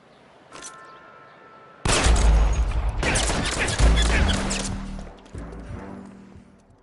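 Gunfire in the video game L.A. Noire: a faint early shot, then a burst of loud overlapping gunshots and impacts, tapering to scattered shots.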